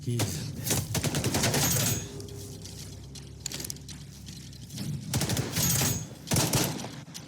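Gunfire aimed at the player in S.T.A.L.K.E.R. 2 crackles in loud, rapid bursts, with dense volleys at the start and again near the end and quieter scattered shots and low rumble between.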